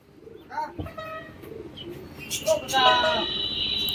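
A female pigeon kept in a loft coos softly in low, rolling murmurs beneath someone speaking close by, with a few chirps from other birds nearby.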